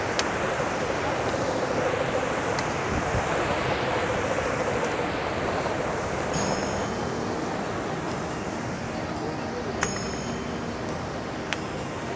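A mountain river flows over boulders beside a pilgrimage trail on the Manimahesh Kailash Yatra, giving a steady, loud broadband rush that runs unbroken throughout with no voices.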